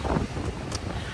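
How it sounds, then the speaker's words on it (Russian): Strong wind gusting over the Black Sea shore at Odessa on a stormy day, a continuous roaring rush of buffeting microphone noise with no talk. "Ветрено."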